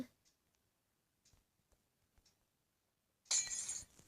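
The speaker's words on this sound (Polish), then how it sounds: "Zniszczyć szkło." Glass breaks in Minecraft inside a large cave: a few faint clicks and taps, then one sudden loud shattering crash near the end.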